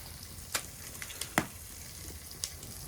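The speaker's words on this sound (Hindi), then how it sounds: "तो बाबा जी तड़का लगा रहे हैं।" A dal tempering sizzles in hot oil in an outdoor cooking setting by a riverside ghat, with a soft crackling bed and several sharp pops and spits scattered through the stretch.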